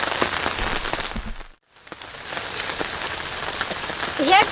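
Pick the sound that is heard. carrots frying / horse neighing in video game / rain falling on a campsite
rain falling on a campsite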